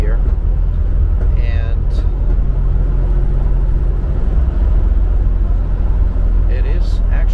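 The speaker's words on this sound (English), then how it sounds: "Accelerated a little bit more aggressive here, and it shifted through the gears." A 1972 Mercedes-Benz 280 SE W108 engine drones steadily and loudly from inside the cabin as the car accelerates through its gears, with someone talking over the constant low rumble.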